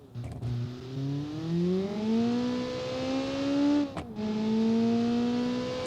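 A Group B Lancia rally car engine in BeamNG.drive revs up hard under full throttle, rising in pitch, dropping briefly at a gear change, then climbing again, loud and steady throughout.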